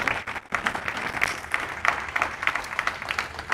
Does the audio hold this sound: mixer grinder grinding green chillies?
no